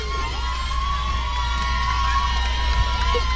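Excited crowd cheering as a cross-country champion crosses the finish line, a dense, continuous roar of shouting and whooping heard steadily throughout at a distance.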